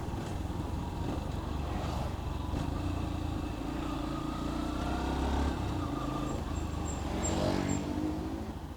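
A Yamaha FZ-S Hybrid motorcycle cruises at low speed in fifth gear with a steady, close engine drone mixed with wind rush throughout, with no voices.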